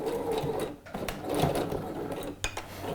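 A sewing machine runs a few backstitches near the seam of Alfie trousers, rapid mechanical stitching in short bursts with brief stops, close and fairly quiet.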